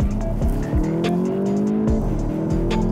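A VW Polo GTI accelerating hard through bends under full throttle, its engine note rising steadily in pitch as a loud, continuous drone, heard from inside the car with no talking.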